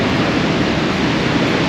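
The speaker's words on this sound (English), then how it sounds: "So, Godafoss Waterfall. Waterfall of the gods." Godafoss waterfall in Iceland roars with a constant, dense rushing wash of falling water, steady and loud throughout, with no voices.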